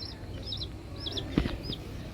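Chicks on a home balcony give soft, high chirping peeps in short repeated bursts, close by against a quiet background with a brief knock.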